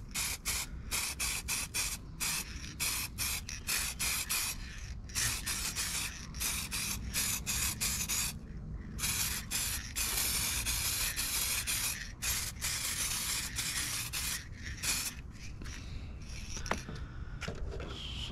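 Spray can laying down candy apple red paint on a nitro RC buggy body, a continuous hissing spray broken into many short bursts and pauses, steady and close with no talking.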